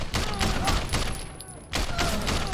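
Rapid bursts of gunfire in the video game Sleeping Dogs, with dense volleys of shots that break off briefly midway and then resume, loud and close.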